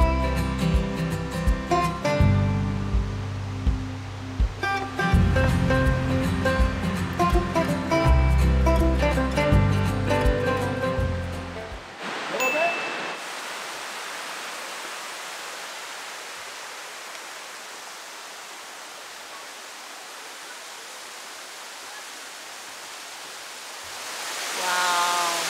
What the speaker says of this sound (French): Puis on entend la cascade.